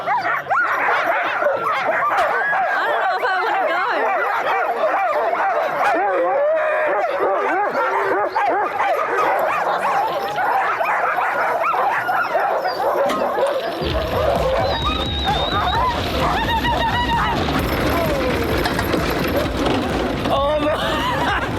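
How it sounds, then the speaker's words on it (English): A team of Arctic sled dogs bark and yip excitedly at a halt, a dense chorus of overlapping barks, whimpers and howls that continues loudly throughout, with some people talking underneath. "As soon as we stop, the dogs are just barking their heads off."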